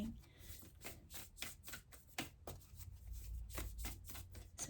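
Oracle cards shuffled by hand give a run of quick papery riffles and soft slaps, close and fairly quiet, repeating in irregular bursts with brief pauses between them.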